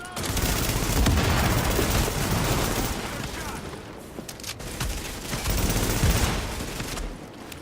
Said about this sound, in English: usually get about 3 snipers, or 4 if I'm lucky.